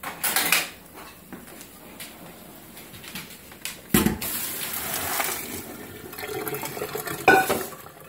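Pasta water being drained from a cooking pot for puttanesca, with running water splashing and metal clanks of pots and utensils in the sink, including a sharp knock near the middle and another toward the end.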